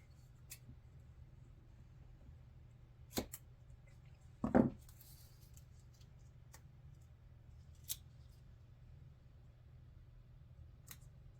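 A few sharp snipping cuts of scissors through paper, one louder pair in the middle and a couple of fainter ones around it, over a steady low background hum.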